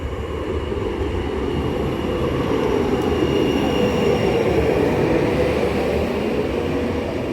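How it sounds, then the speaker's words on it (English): A Sheffield Supertram tram-train sits at the Rotherham Parkgate terminus, a steady loud rumble of rail motors and rolling noise holding throughout, with no talk. "Gonna head back on the same tram-train in a moment."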